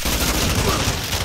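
Gunfire in the Call of Duty Modern Warfare 2 multiplayer map Pelayo's Lighthouse on Xbox, a dense, continuous burst of shots lasting just over a second at steady loudness, with no clear voice over it.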